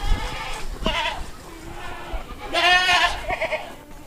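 Goats bleat at a goat farm livestock market in Lampung, with several wavering bleats rising close by over background chatter and murmuring voices.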